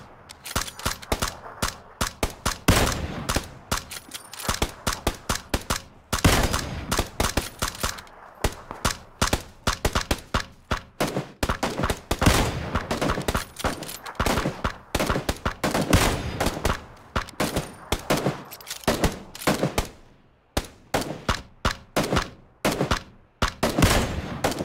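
Gunfire rattles through a PUBG match: rapid, close, sharp shots in irregular bursts and volleys, with brief gaps between them and almost no voice over the top.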